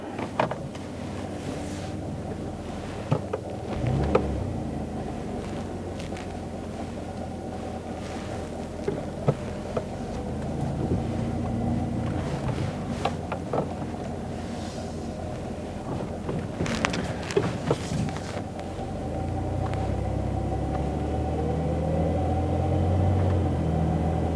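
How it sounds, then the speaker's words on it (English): A used car out on a test drive on the road gives off a steady low rumble of engine and road noise with wind buffeting, broken by occasional brief knocks and bumps, continuous for the whole stretch with no talk. "Now let's go for a test drive to test out how it feels on the road."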